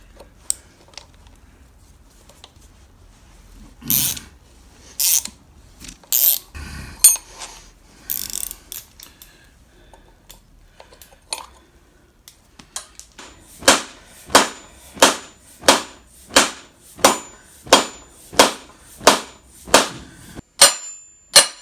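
Bolts being undone on a Foden 8-speed gearbox from a Cummins-powered 1973 Foden S80 truck: a few scattered metallic knocks and clicks, then a steady run of about a dozen evenly spaced sharp ratcheting or tapping strikes, close and fairly loud.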